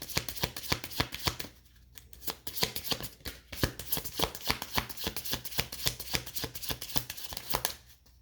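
A deck of tarot cards is shuffled by hand in a steady series of quick, papery riffles and slaps, close up, with a short pause partway through and no talk over it.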